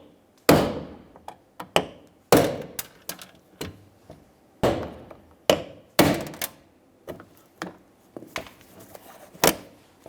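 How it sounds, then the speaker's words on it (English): A hammer strikes a punch to drive the centers out of the rivets holding a rear exterior door handle on a 2003–2011 Mercury Grand Marquis, sharp metallic blows at irregular intervals, some struck hard and others lighter, close by with no talking. "Continue with your hammer and punch to drive out the center"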